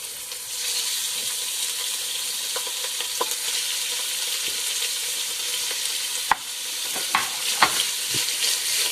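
Stew beef browning in a hot pan, a steady loud sizzle and crackle with occasional sharper pops and clinks as the pieces are stirred and shifted.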